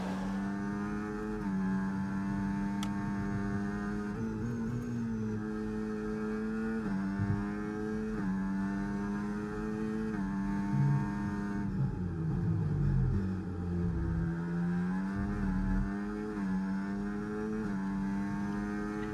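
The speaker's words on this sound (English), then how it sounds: "great launch off the line as Oscar Piastri struggles on those hard tires to get him warmed up and to get a good launch" Engines of Formula 1 cars in the F1 24 racing game roar together at the race start, a dense, sustained high-pitched revving with rising and falling pitch sweeps as cars accelerate, loud and continuous throughout.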